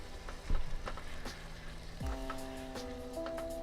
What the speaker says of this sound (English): Then I'm going to stir this up here.